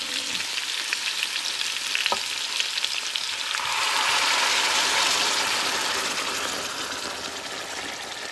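Sauce poured onto meat in a hot pan for Honduran tamales bursts into a loud, broad sizzle that swells midway and then settles, with a sharp clink of a utensil early on.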